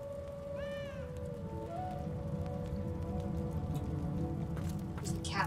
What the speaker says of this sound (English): There's a cat somewhere.